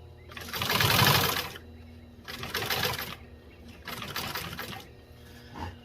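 A commercial automotive upholstery sewing machine with a carpet binder attachment, running a 3mm stitch, binds the edge of automotive carpet in three loud, close bursts of rapid stitching separated by short pauses.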